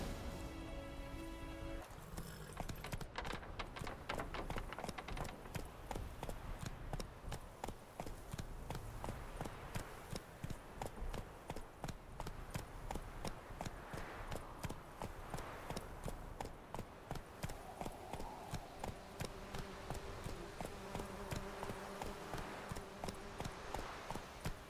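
Horse hooves clip-clop steadily through The Witcher 3 video game, a continuous rhythmic trotting that runs the whole stretch under faint background score.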